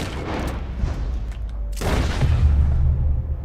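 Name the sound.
gunshot in the video game Red Dead Redemption 2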